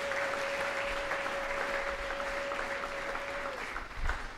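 A church congregation applauds for the Lord Jesus, with dense, steady clapping from a full room that continues for several seconds under a sustained tone, then tails off.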